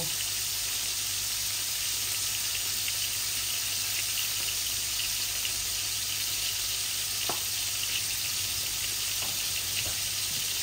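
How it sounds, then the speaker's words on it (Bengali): Dry spices heat and fry in a pan for a rohu fish head and potato ghonto, giving a steady, soft, continuous sizzle with a few faint pops and stirs. No one talks. "এগুলো একটু ভাজা ভাজা হয়ে যাক"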